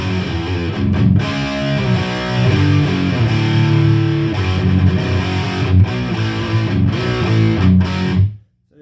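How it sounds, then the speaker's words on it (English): Ibanez RG100ES electric guitar with EMG pickups running straight into the amp with no effects, giving a hairy, slightly fuzzy distorted tone. Loud, continuous chugging and chords that stop suddenly near the end, with no talking. "This is the amp naked."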